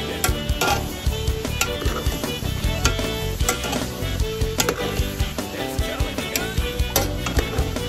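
Bacon frying in its own rendered grease, with a steady crackling sizzle and dense popping spatters running throughout, loud and close.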